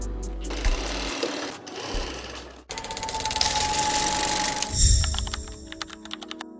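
A sewing machine stitching fabric in several close, loud runs of rapid mechanical whirring and clatter, separated by brief pauses, with the final burst speeding up noticeably.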